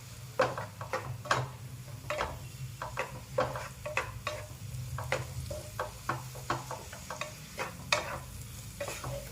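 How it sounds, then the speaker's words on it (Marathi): Finely chopped tomatoes sautéing with onions in a pan: a soft, low sizzle under frequent quick scraping and clinking of a spoon against the pan, close and busy, with a faint hum beneath. "बारीक चिरलेले टमॅटो घेतले आहेत एकदम आणि ते मऊ होईपर्यंत परतून घ्यायचे आहे"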